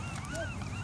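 A dog gives a short, near whimpering yip over steady low background noise, with no clear talk during the sound.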